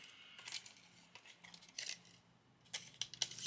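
Several quick, crisp snips of scissors working through paper, close by, in short bursts with brief pauses between.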